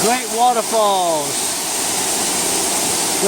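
A large wilderness waterfall gives off a steady, broad roar of rushing water, loud and close. A person speaks over it at the start, and then the water continues on its own.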